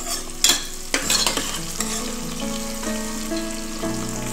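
Onions and spices are stirred and fried in a pan for a traditional Marathi vegetable dish, giving a steady close sizzle with scraping stirs and a few sharp clinks early on, with no talking.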